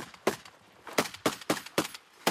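Gunfire during a Ukrainian mountain assault brigade's combat training: about seven sharp, loud shots in an irregular rhythm, fairly close, with short decays between them and no talking.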